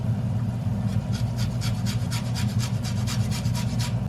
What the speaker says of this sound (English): I don't have lemongrass, so I'm gonna zest a lemon.